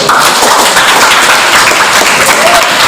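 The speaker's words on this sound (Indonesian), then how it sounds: "Tepuk tangan semuanya." A loud, steady wash of applause from a crowd at a school, continuous clapping filling the whole stretch.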